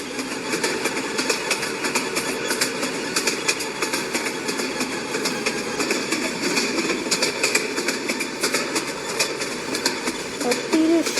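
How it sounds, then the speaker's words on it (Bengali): A train in a Bangladeshi train video game runs along its track, giving a continuous rolling rumble with faint rhythmic clatter, steady and moderately loud throughout with no talking. "সবচেয়ে বেশি ভালো লাগবে গেমের ট্র্যাক সাউন্ড।"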